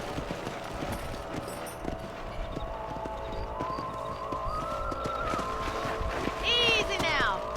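Horse hooves clip-clop in the video game Red Dead Redemption on Xbox 360, a steady rhythmic gait under in-game ambience and music, ending in a rising whinny-like tone.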